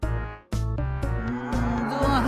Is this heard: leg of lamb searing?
no